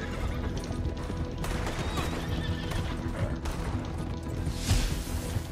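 Horse in Red Dead Redemption 2 online horse racing neighs and whinnies over steady galloping hoofbeats, loud and close, with a busy game soundscape underneath throughout.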